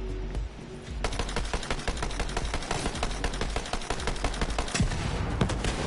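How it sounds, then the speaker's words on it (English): A shotgun firing in Borderlands on Eden-6, dense loud blasts and impacts in rapid succession, close and continuous amid chaotic combat noise. "This shotgun don't mess around."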